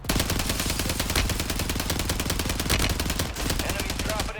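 Rapid nonstop automatic gunfire from Warzone rattles in a dense, loud, continuous stream of shots with barely any pause.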